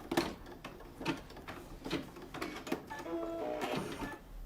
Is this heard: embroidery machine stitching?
yes